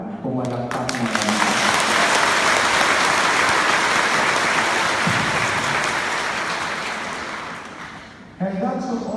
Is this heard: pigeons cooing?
no